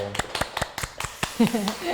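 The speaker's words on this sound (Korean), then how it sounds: "박수 부탁드릴까요?" On a Korean education talk show about the high school credit system, an audience claps in a quick, regular rhythm close to the microphone, and a voice comes in as the clapping fades.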